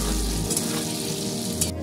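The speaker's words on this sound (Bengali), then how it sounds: "এবার আলুগুলো ভেজে নেব।" Potatoes frying in oil give a steady, close sizzle, with a low hum at the start and a brief clink near the end.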